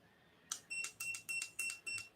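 Quiet digital timer beeps as it is set, a short series of about seven sharp electronic chirps in an irregular rhythm.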